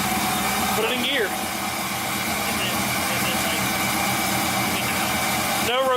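An LS V8 swapped into a Nissan 240SX idles with a steady, even drone, close by, while brief voices come in near the start and end.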